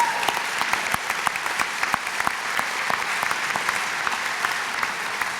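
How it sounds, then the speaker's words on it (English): Steady, full applause from a commencement ceremony audience, dense and sustained throughout with sharp individual claps standing out over the broad wash. "Yeah, that deserves some applause."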